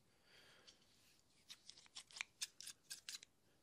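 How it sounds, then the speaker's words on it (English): Two pairs of scissors snip close to the mic in a quiet room for beard-trimming ASMR, the crisp metallic cuts faint at first, then a quick run of about ten sharp snips in the second half. "pairs of scissors here, and so I will just do some scissor sounds."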